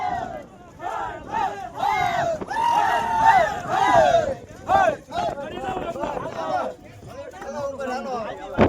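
A lively crowd of many voices shouts and chatters together, loud and close, at the Ambaji temple atop Girnar mountain, with overlapping calls throughout.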